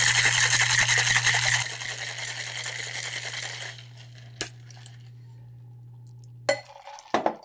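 A cocktail shaker is shaken hard close by, a loud rattling burst that fades after a few seconds, followed by a low hum and a few sharp clinks.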